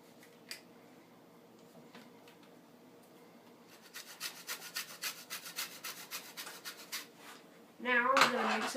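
Lemon being zested on a grater, a run of rhythmic rasping scrapes up close after a quiet start, followed by a burst of speech.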